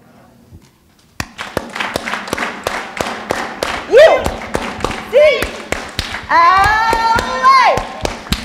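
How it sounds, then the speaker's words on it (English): A crowd in a talk venue claps in a fast rhythmic pattern, loud and near, while people shout and cheer over the claps. "We should do an 8-clap"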